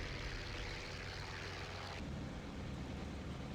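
An A6M Zero's propeller engine drones steadily in IL-2 Sturmovik 1946, a continuous, fairly faint roar whose tone shifts partway through, with no voices.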